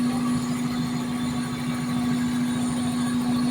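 A Toyota Corolla GLi engine runs steadily, a constant close hum with a strong low drone and no change in pace. The engine has a starting fault and had been running with low power.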